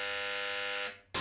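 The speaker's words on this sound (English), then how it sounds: "I really hate that buzzer" A harsh electronic buzzer blares steadily for about a second, fades briefly, then cuts back in loudly at the end.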